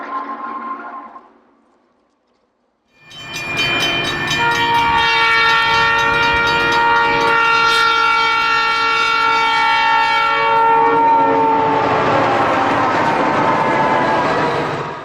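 Red, white and blue bicentennial diesel locomotives of the American Freedom Train on the Southern Pacific and Western Pacific sound a loud, sustained multi-chime horn, followed by rumbling passage close by.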